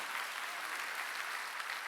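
A church congregation at a Sunday worship service applauds, steady and dense clapping from a large group of worshippers, loud and continuous throughout with no voices over it.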